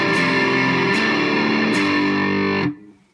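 Electric guitar played through a Rothwell distortion pedal on a pedalboard with an effects looper, a thick sustained distorted chord ringing loud and steady with a couple of restrikes before being cut off abruptly near the end.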